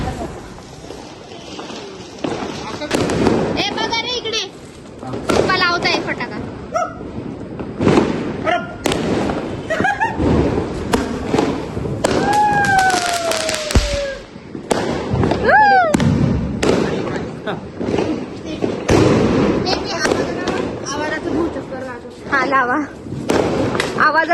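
Loud Diwali firecrackers explode in repeated sharp bangs and thuds, some with whistling tails, while people talk and laugh close by throughout.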